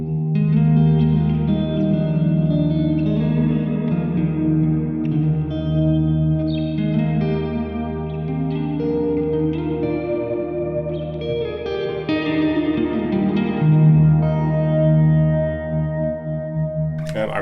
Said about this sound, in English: I really like that plate reverb actually.